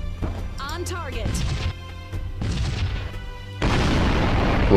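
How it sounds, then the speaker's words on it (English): Huge explosion in the sci-fi space strategy game Sunrider: Mask of Arcadius, a deep booming blast that erupts near the end and rolls on loudly, following earlier bursts of weapon fire and game sound effects. "That was pretty big explosion."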